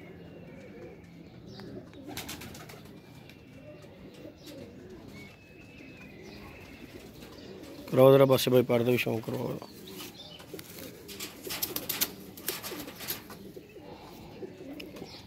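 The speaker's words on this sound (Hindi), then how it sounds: "ये क्रीच में कबूतर हैं" Kamagar and Kasuri pigeons in a loft, soft cooing in the background with a burst of wing flapping midway, while someone talks over them.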